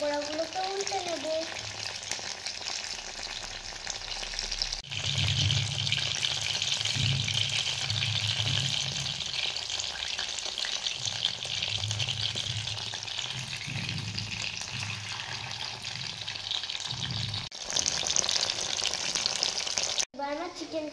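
Chicken pakoras sizzle and crackle steadily in hot oil in a Bengali-style home kitchen, with soft stirring and turning noises as pieces are flipped over, the frying hiss continuous and close throughout.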